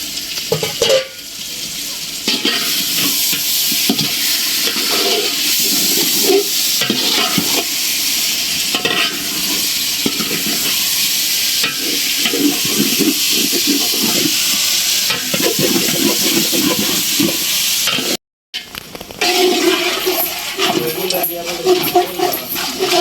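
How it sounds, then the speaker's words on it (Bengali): Meat dropped into a pan of sautéed spices sizzles steadily and close, with stirring scrapes throughout and one brief silent break near the end. "মশলা কষানো হয়ে গেছে আমি মাংসটা দিয়ে দিলাম"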